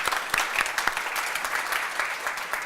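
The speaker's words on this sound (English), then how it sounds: "please, a round of applause for Ömer." A startup workshop audience in Istanbul claps for Ömer: moderate applause with a few sharp individual claps standing out early, then settling into an even, steady patter for just under three seconds.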